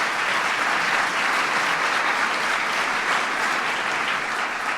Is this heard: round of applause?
yes